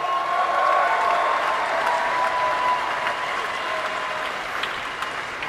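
Stadium crowd at The Stoop rugby ground applauding and cheering for a departing Harlequins player, a dense, steady roar of clapping that fills the whole stretch with a few sharper shouts near the end.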